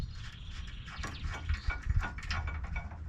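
A nut being threaded by hand onto a slightly crusty end link of a Land Cruiser FJ80, giving a close run of small metallic clicks and scrapes over about three seconds with no talking.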